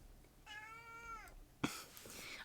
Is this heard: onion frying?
no